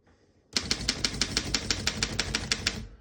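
A 1927 Underwood No. 5 vintage desktop typewriter being typed on, a steady run of about fifteen sharp mechanical key strikes at an even rhythm, close and clear, with no voices.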